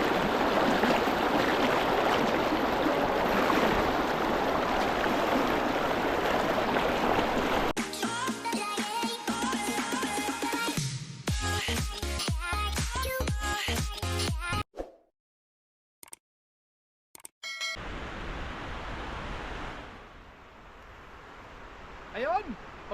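Rushing river water flows in a broadband wash for the first several seconds, then gives way to clattering handling noise, a near-silent gap and a fainter return of flowing water. There is no speech.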